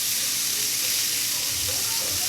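Onions sautéing in butter in a pan, giving a steady, even sizzling hiss that runs the whole time with a faint low rumble beneath.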